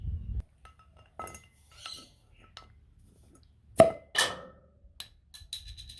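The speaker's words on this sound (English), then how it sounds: "So I'm going to crack open a beer." Quiet clinks of glass, then a sharp pop and hiss as a beer bottle is opened, followed by a few light taps and clinks close by.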